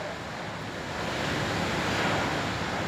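Strong storm wind roars steadily during a major typhoon in Khanh Hoa, a dense, continuous rush that swells slightly louder midway with no voices.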